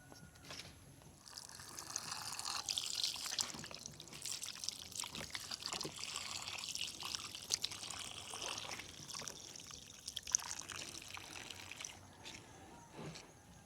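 Water sloshes and pours, dribbling and swirling as rice is rinsed by hand for the third time, fairly near and moderately quiet, with brief speech in the background.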